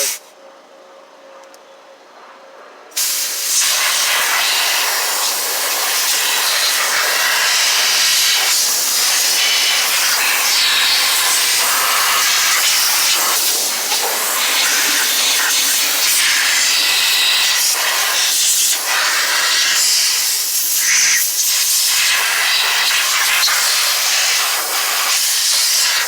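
Compressed air blasting debris off an Exmark mower, a loud, close, continuous hiss that starts abruptly after a few quiet seconds and roars on with slight fluctuations, no talking.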